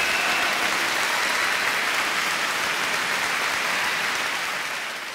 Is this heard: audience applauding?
yes